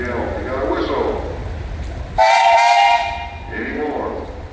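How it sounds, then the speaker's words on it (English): A steam traction engine whistle gives one steady, loud blast of about a second in the middle of a parade. Crowd noise and talk run before and after it. "Mr. Yelm, you got a whistle."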